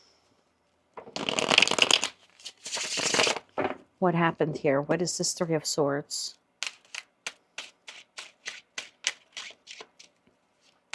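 Tarot cards riffled and shuffled close up, a burst of fluttering riffles followed by a string of crisp, evenly spaced snaps; a person speaks briefly partway through.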